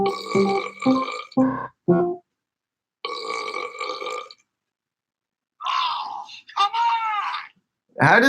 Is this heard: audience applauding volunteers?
no